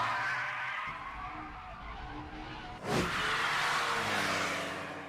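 Tires skid and squeal as a Toyota AE86 makes a braking drift in the Initial D anime, a sustained loud screech with engine noise that surges sharply near the three-second mark and continues to the end.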